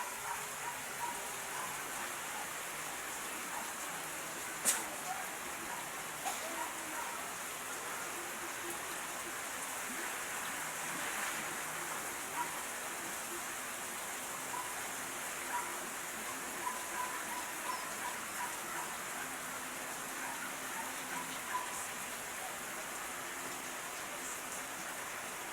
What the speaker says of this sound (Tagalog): yung ulan na ipandilig sa halaman